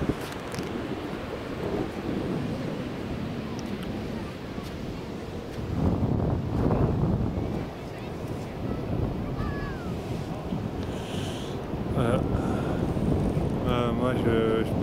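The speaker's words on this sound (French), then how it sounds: "Il y a du vent, mais il fait bon." Wind rushes and buffets against the microphone in rising and falling gusts outdoors, with distant voices and faint background sounds underneath.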